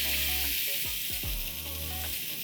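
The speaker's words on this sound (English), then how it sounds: "time to add in the cooked white peas" Cooked white peas tipped into a hot pan of sizzling spice paste with cumin seeds, a loud bright hiss throughout with a few low thumps and stirring scrapes near the start.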